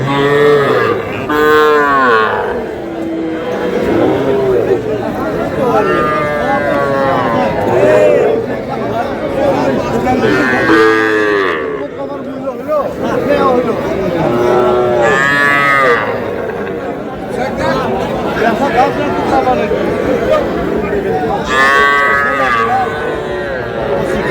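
Cattle, including young bull calves, moo loudly again and again, close by at a livestock market, with people chattering in the background throughout.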